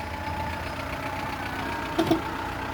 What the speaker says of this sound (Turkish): kumandamızın uzaktan çalıştırma tuşuna basıyoruz. Araç çalıştı.